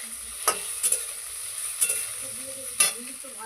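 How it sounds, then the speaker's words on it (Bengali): Potatoes fry in a pan for a home-cooked Bengali mochar ghonto, giving a steady close sizzle broken by a few sharp stirring scrapes and clinks. "তো আলুটা ভাজা ভাজা হয়ে এসছে।"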